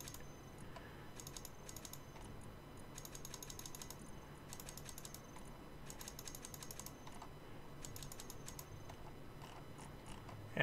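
Computer keyboard keys clatter quietly in repeated bursts of rapid typing separated by short pauses, over a steady low hum, with no talking.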